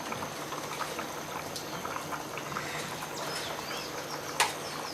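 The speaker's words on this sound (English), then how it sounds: "when you're boiling your meat" Beef boiling in a pot with beef stock cubes, salt and onions in a Nigerian-style home kitchen, giving a steady bubbling simmer throughout with one brief sharp clink near the end.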